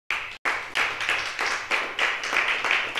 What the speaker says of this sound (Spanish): ¿Puede darle un aplauso a Dios si gusta?